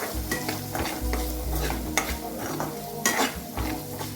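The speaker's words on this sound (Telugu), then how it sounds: "తర్వాత కాస్త పసుపు వేసాం, కొంచెం కలిపి" Turmeric being stirred into food frying in a pan, with a spoon scraping and clinking against the metal over a steady sizzle, close and fairly loud, no voice.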